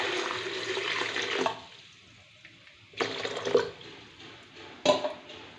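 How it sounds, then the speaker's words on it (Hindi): Water added to a sweetened plum juice (aloo bukhara sharbat) mixture, heard as three separate splashing pours, the first long and the later two short, at moderate volume with quiet gaps between and no voices. "अब इसके अंदर पानी ऐड कर देंगे।"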